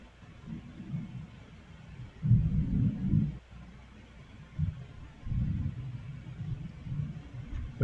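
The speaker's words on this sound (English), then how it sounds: "Was that thunder?" Thunder rumbles low and muffled in several rolling swells, the strongest in the middle, heard distant and soft with no voices over it.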